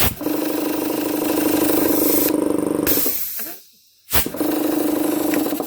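An air compressor runs with a loud steady engine drone, then a sharp hiss as the pressure release valve blows off, the motor cuts out into near silence, and it restarts with a burst of noise.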